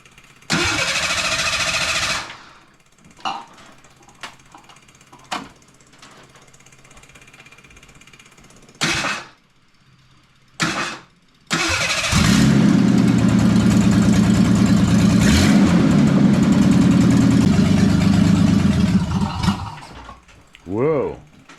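A Ford Bronco II with a waterlogged A4LD automatic transmission cranks in several short bursts, then its engine catches and runs with a loud rough idle for about eight seconds, with people talking around it.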